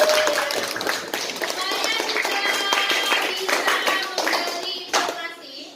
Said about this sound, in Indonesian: Semangat dong, tepuk tangan untuk kelompok 6.